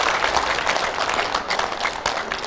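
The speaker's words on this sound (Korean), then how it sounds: "자꾸 박수 치면 계속 오래 합니다." A crowd claps at a political report meeting held by a National Assembly member, loud, dense and continuous applause with no gaps, filling the room from start to finish.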